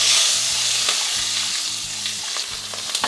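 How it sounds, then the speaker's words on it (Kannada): Sambar onions frying in hot oil, a loud continuous sizzle with occasional stirring scrapes and a low hum underneath, no voices. "ಸಾಂಬಾರು ಈರುಳ್ಳಿ ಬೇಗ ಫ್ರೈ ಆಗೋಗುತ್ತೆ."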